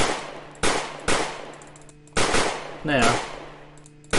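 Gunfire in the zombie shooter game Zombiehaus: several sharp, loud shots at irregular intervals, each with a ringing decay, and a short spoken interjection partway through.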